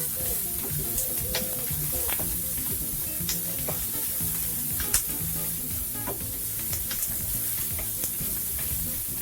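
Three cloves of chopped garlic sizzle steadily in a hot pan, a dense continuous frying hiss with occasional stirring clicks and scrapes, close and even throughout.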